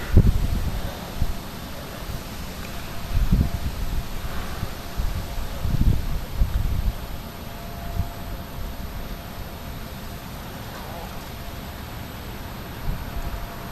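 Storm winds from an autumn depression in Clermont-Ferrand blow in moderate gusts, a steady broad rushing roar with low rumbling buffets on the microphone now and then, no voices.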